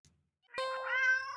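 A house cat gives one drawn-out, rising and falling meow, close and clear, after a brief quiet start.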